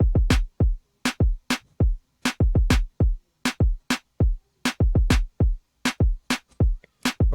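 Reggaeton drum transition pattern with a bounce: punchy, deep kick-and-snare hits repeat in a syncopated, dembow-style groove with short gaps between hits, dry and loud, no voices.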